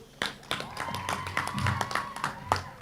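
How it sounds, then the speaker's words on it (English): Scattered, uneven hand claps come from an outdoor crowd at an agricultural expo and World Food Day event on a playing field. The separate sharp claps ring out over a steady faint tone and low background sound. "Give her a round of applause"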